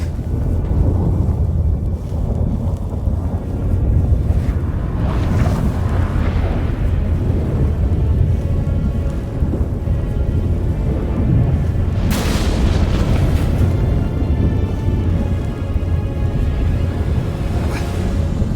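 A fantasy storm in The Witcher 3 video game, with a steady roar of heavy wind and rumbling low thunder running throughout, swelling louder in bursts mid-way and again near the end.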